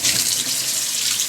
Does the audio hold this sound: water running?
yes